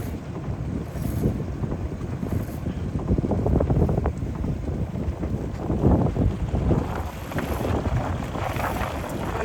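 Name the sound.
worker boats passing on waterway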